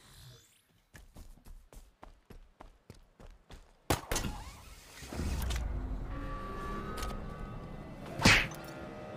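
Hangar ambience in the Halo Infinite video game, played on legendary campaign: a run of even, thudding footstep-like knocks, then a heavy clunk followed by a low rumbling drone, with a sharp bright burst near the end.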